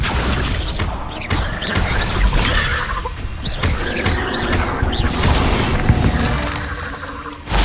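A Confringo fire spell strikes in Hogwarts Legacy with loud crashing, thudding impacts and clanking debris, several hits layered over a busy, rumbling combat background.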